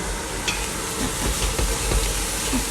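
Onions softening in sunflower oil in a pan for spinach and meat boraniye, a close, steady sizzle and crackle with light bubbling pops throughout.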